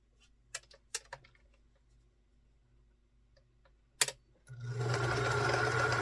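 Quilt pieces being sewn, with a few sharp clicks and taps of handling, then a close sewing machine starting up into a steady, loud continuous whir of stitching.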